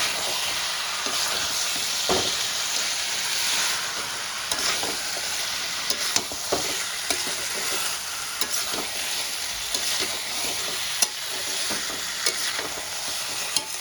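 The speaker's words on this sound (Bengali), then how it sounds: "চিকেনটা দিয়ে আমি মশলার সঙ্গে কষাতে থাকবো।" Pre-fried chicken pieces sauté with spices in a pan for yogurt chicken, a loud continuous sizzle layered with repeated spatula scrapes and knocks.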